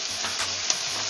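Tomato hits softened onions and ginger frying in a pan for a Filipino octopus stew, giving a loud, continuous close sizzle with light stirring scrapes.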